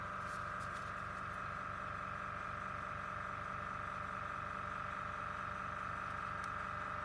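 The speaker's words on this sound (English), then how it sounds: "What you're hearing is my airbrush compressor." A small airbrush compressor hums steadily and quietly in the background, a constant droning whir with a faint rhythmic pulse and nothing else over it.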